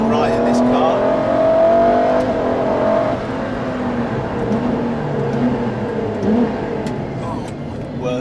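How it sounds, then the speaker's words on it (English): LaFerrari with its 950+ bhp V12 engine droning steadily while driving, a loud continuous mid-range hum that swells and eases slightly, with speech-like tones over it. "noise from the V12 engine going on behind me"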